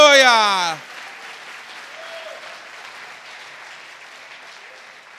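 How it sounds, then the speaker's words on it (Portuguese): A church congregation applauds in a broad, moderate wash of clapping that continues steadily after a brief opening burst of a voice, with a faint exclamation rising now and then. "abra a tua boca para dar um glória a Deus, agradecendo e aplaudindo a Ele nessa hora"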